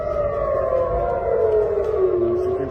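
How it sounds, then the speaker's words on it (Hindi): An air raid siren in the Tel Aviv area wails steadily during a drone attack, its long tone slowly sliding downward in pitch, loud and sustained without any talking. "तेल अवीव के कई शहरों में हवाई हमलों के सायरन बजने लगे।"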